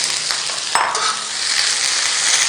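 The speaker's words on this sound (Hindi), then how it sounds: "थोड़ा सा ऑयल डाल के तकरीबन 1 खाने का चम्मच प्याज को हल्का सा बस सौते करना है" Chopped onion sautéing in a little oil in a pan for an egg paratha roll, a steady close sizzle throughout with a brief stir or clatter near the start, no talk.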